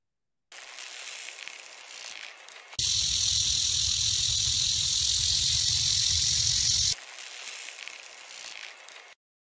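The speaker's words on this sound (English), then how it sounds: "So the clip goes like this gopher snake, rattlesnake, gopher snake." A recorded sequence switches from a gopher snake's breathy hiss to a rattlesnake's loud, steady buzzing rattle and back to the softer hiss, each sound sustained and close.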